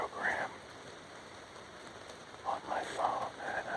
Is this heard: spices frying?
no